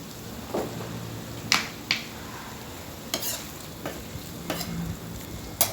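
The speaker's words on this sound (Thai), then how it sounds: "คั่วไปเรื่อยๆครับ" Curry paste stir-fried in a pan, with a low steady sizzle under a handful of sharp, spaced clicks and scrapes of the spatula against the metal, close and fairly quiet.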